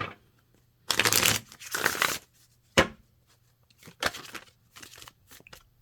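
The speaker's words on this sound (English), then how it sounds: "Do another shuffle." Tarot cards being shuffled during a reading, several quick riffling bursts separated by pauses, close and fairly soft, with no talking.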